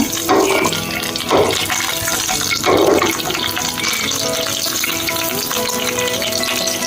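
Green chili and curry leaves fry in hot oil as a tempering for ash gourd gojju, giving a steady close sizzle with a few louder bursts of stirring near the start.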